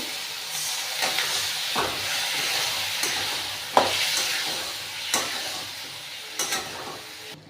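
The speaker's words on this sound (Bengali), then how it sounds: "মশলাটা আমি ভাজছি" Steady sizzling and hissing of spices frying in a hot pan for dhokar dalna, a Bengali lentil-cake curry, with occasional scrapes and clicks of a utensil stirring.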